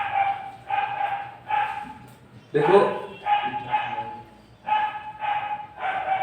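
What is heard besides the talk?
dog barking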